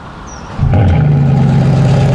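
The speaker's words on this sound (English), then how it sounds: "It switches on almost instantly because I think the motor must be kicked into life from the electrics." A TechArt Porsche Panamera Grand GT hybrid's engine fires up almost instantly, jumping from a quiet hum into a loud, steady, deep burble that holds close and continuous.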